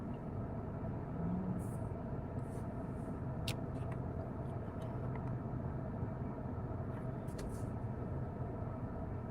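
Steady low rumble inside a moving car, constant and unbroken, with a few faint clicks and ticks over the drone.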